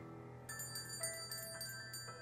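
A stage bell rung as a sound effect during a Shakespeare performance of Macbeth, giving a series of clear, evenly spaced metallic strikes with ringing tones over a steady low hum.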